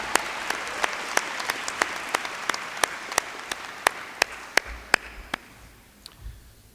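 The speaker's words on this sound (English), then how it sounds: "I think that deserves a second round of applause for the muse singing." At a university convocation, a small number of hands clap in sharp, evenly spaced strokes, about twenty distinct claps that slow and fade out over several seconds in a reverberant hall.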